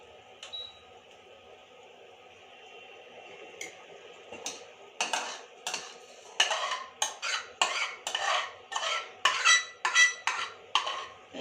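Metal cooking pots, a karahi and a khichdi pot, clank and scrape as they are moved and set down in a quick irregular series of sharp knocks, growing louder and busier in the second half, with no talking.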